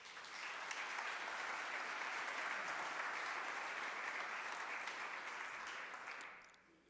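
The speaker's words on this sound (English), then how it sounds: "I think he deserves a round of applause for that work" City council chamber audience applause, a sustained broad wash of clapping that holds steady for several seconds before tapering off at the end.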